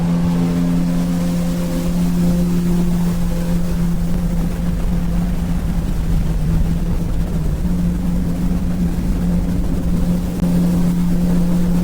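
A 2024 Yamaha VX WaveRunner cruising on Lake Keowee in South Carolina, its engine holding a loud, steady hum with a constant pitch while wind and water rush over it without a break.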